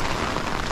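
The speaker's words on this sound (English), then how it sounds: "it's raining a lot." Dense, heavy rain pours steadily onto a surface nearby, a loud continuous hiss with no pauses.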